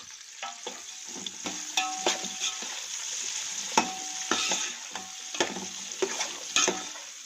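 Onions sizzle in hot ghee while a utensil stirs and scrapes the pan, sharp clacks scattered over the steady frying hiss.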